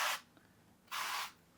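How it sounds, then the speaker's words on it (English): Two short bursts of cooking spray hiss onto a pan in a home kitchen while preparing a meal, each puff close and loud with a brief quiet gap between them. "We'll spray it down."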